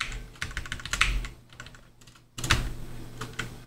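Typing on a computer keyboard while editing MIDI in Studio One 5: quick clusters of close, crisp key clicks in two bursts separated by a short pause, with a soft low hum beneath.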